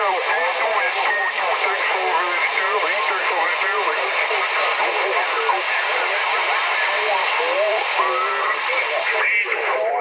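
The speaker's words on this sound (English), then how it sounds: "Static line is very, very heavy today." Heavy static on an 11-meter CB radio during morning skip conditions, a loud continuous hiss and crackle with garbled voices buried in the noise throughout.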